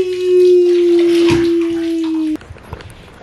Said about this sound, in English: You love the water stream?